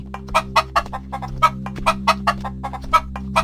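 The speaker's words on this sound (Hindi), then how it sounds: "मुर्गी की आवाज सुनते ही" A hen clucks in a steady run of short, sharp calls, about a dozen in quick succession, close and clear over a low constant hum, with no talk.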